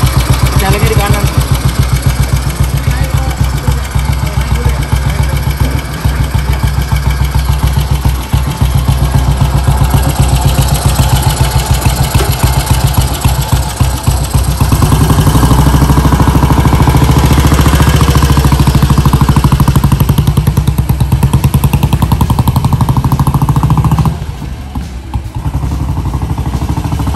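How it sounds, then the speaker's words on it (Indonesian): A vintage British motorcycle engine idling close by, a loud steady rapid chugging throb with mechanical clatter that drops briefly near the end. "British Motorcycle."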